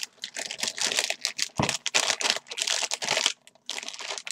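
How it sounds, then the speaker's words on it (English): Adhesive tape is pulled off a roll and pressed across a sealed hole in a protective container for electronics, giving loud bursts of crinkly ripping and rubbing with short pauses, close up and with no talking. "Now I could just tape it up."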